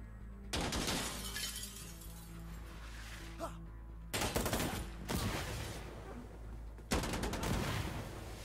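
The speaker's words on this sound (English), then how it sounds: "I'm throwing a grenade!" Three heavy, crashing blasts in Insurgency Sandstorm fit a grenade explosion, each a sudden loud broadband burst with a rumbling tail inside a building, and players talk between the blasts.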